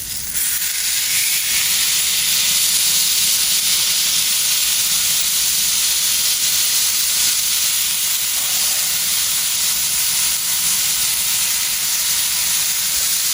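A smash burger patty sizzles on a Big Green Egg griddle on top of onions, giving a loud, steady hiss that runs unbroken and close with no voices.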